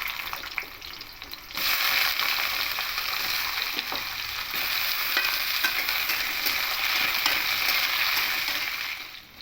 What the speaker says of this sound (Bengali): এবার তেলের মধ্যে কেটে রাখা আলুগুলো প্রথমে দিয়ে একটু লাল লাল করে ভেজে নেব